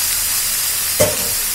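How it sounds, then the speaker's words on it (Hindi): Chicken frying with coriander powder in a pan gives a steady, loud sizzle throughout, with one brief sharp burst of spattering partway through. "ये आधा किलो चिकन है, वो इसी टाइम चिकन भी इसमें देना है।"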